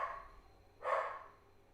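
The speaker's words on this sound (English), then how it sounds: "He's barking an awful lot" A dog barks once, a single short mid-distance bark in an otherwise quiet indoor setting, with a faint fainter yip trailing just before it.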